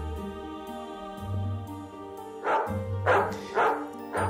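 Dog barking, several sharp barks in quick succession in the second half, close and loud over a soft musical background, with a faint whimpering tone earlier.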